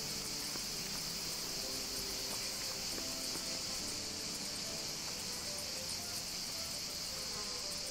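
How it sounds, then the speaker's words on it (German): Bees buzz in the video game Everdream Valley, a steady, faint insect hum that runs continuously under a soft ambient background. "Bienen habe ich gehört."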